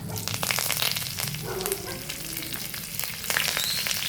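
Mustard seeds, green chilli and curry leaves frying in hot oil, a loud, close crackling sizzle with dense popping bursts throughout.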